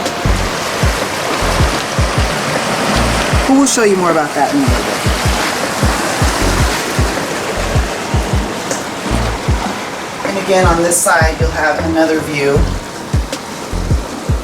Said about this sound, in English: You can still hear the waves crashing, of course.